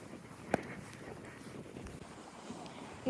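Strong wind blows outdoors and buffets the microphone with a steady low roar throughout. A brief gust knocks near the start, and no one speaks.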